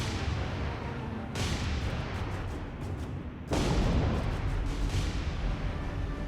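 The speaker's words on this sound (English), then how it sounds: "Wakataki struck by torpedoes." Torpedo hits on the destroyer Wakataki in the naval combat game War on the Sea: heavy, loud rumbling blasts, one at about a second and a half and a stronger one near three and a half seconds, over continuous low booming with no talk.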